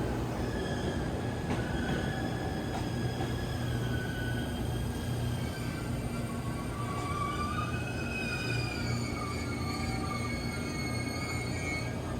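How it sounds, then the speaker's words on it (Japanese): The limited express Nichirin Seagaia No. 5 rolls into a Japanese station: a steady, loud rumble of wheels on rail with high squealing brake and wheel tones rising and falling throughout, no voices. "特急日輪シーガイア5号がやってまいりました"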